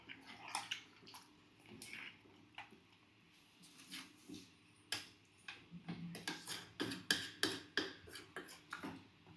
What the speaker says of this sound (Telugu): జస్ట్ కొన్ని వాటర్ వేసాను అంతే.